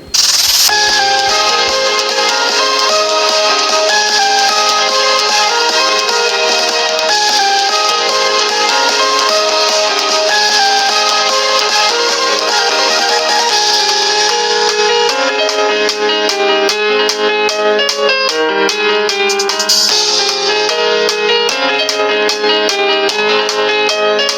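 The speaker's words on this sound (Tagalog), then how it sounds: "Ito yung tunog ng speaker." Music plays steadily through the single loudspeaker of an Infinix Hot 50 phone, bright and treble-heavy with thin bass, a continuous tune with chiming accents and no talking.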